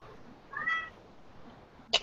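A house cat gives a single short, rising meow close by, followed by quiet room tone and a brief sharp tap near the end.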